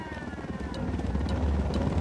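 A helicopter approaches in the Ghost Recon Wildlands video game, a steady low rotor rumble growing slightly louder over two seconds, with faint high whines pulsing above it.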